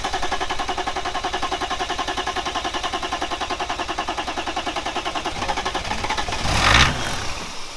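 A BMW 325 tds diesel engine running with a loud, close, rhythmic clatter, then revving up in a brief surge near the end before settling back, with no voices over it.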